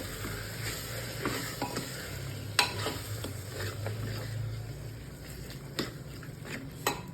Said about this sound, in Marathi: छान संपूर्ण साहित्य मिक्स करून घेऊया